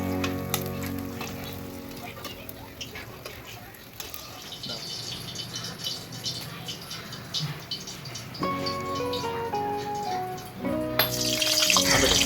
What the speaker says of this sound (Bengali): তেলটা গরম হওয়ার পরে মাছগুলো ছেড়ে এপিট ওপিট উল্টে নেব